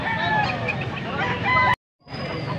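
Gamecocks (bull stags) crow and cluck at a busy poultry sale in Pampanga, their calls layered over crowd chatter before a brief cutout and a quieter stretch of background bird noise.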